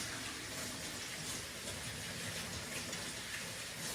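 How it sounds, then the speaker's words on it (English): Tap water runs steadily in a kitchen sink while hands are washed during air fryer cooking, a continuous broadband rush with no talk over it. "I'm washing my hands"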